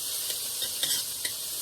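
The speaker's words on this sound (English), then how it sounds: "So as these are stirring, these are sweet onions." Vidalia sweet onions simmer in a pan, a soft steady sizzle with a few light stirring scrapes at close range, no voices.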